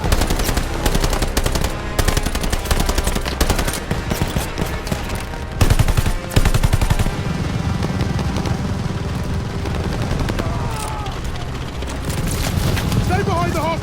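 Sustained machine gun fire and gunfire in a Call of Duty battle, with bursts and explosions running dense and loud throughout while soldiers shout orders over the fighting.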